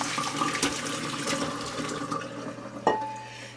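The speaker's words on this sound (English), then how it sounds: "Now I'm going to pour it over in this colander." Hot water from a pot of boiled turnip greens pours into a colander in a home kitchen, a steady splashing gush with a clank of the pot near the end.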